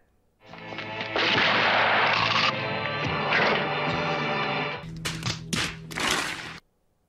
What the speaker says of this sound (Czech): proč do nich střílíš a plítváš si munici?